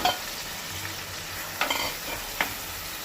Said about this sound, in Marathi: शिजोवन घेतल्या ती सुरणाच्या पानाची भाजी घालता।